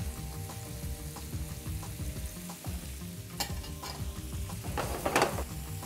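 Zucchini frying in a hot pan with olive-oil-style sizzle, a steady soft crackle with occasional stirring and utensil clinks, close and moderately quiet.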